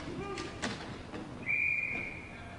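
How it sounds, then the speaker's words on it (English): A referee's whistle during a hockey game, one clear sustained blast in the middle of the clip, preceded by thuds of sticks and bodies in a noisy arena. "We get the whistle."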